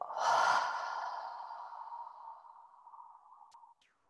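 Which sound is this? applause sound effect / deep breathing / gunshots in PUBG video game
deep breathing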